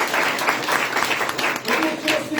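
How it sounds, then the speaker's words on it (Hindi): A church congregation claps loudly for Jesus, a dense burst of many hands applauding together with a speaking voice heard over the clapping. "के लिए जोरदार ताली बजाएंगे।"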